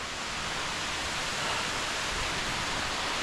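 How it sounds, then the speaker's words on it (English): A tall waterfall over 100 meters high at Silver Waterfall in Sapa, heard near the top as a steady, dense roar of rushing water that stays constant and loud throughout, with no voices. "That's just the top of the waterfall, and down there is the bottom."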